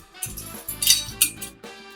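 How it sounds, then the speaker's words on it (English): Chopped vegetables for cowboy caviar tossed and stirred in a bowl, giving a few soft clinks and scrapes of a utensil against the dish in short bursts, close and fairly quiet. "So we're gonna throw it all in a bowl and mix it."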